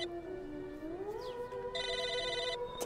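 A telephone rings in a video game, a short bright electronic trill that comes in partway through over sustained tonal music, fairly quiet and with no talking.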